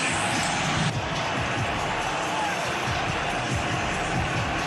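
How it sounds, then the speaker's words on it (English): A roaring football stadium crowd at an Ohio State Buckeyes versus Indiana Hoosiers college game, a dense, loud, continuous wall of noise from thousands of fans, with no distinct voices emerging. "Give the credit to the fans here. It is loud in this building."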